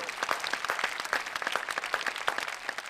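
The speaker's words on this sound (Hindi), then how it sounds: "बजाइए तालियां इनके लिए" Studio audience applause on a Holi special poetry show, a brisk, crisp patter of many hands clapping at moderate volume, with individual claps standing out rhythmically throughout.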